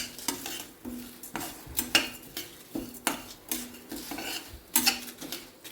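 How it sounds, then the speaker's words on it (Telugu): Four dried red chillies frying in oil in a pan, heard as a steady series of close metallic scrapes and clinks from stirring, about one every half second, over a faint background sizzle. "చూడండి, నేను ఒక 4 ఎండుమిరపకాయలు దీంట్లో వేసేసాను. ఇప్పుడు ఇది కూడా ఫ్రై చేసేద్దాం దీంట్లో."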